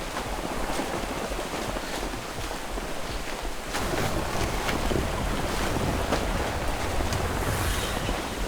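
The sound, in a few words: ship in rough ocean water, from a naval video game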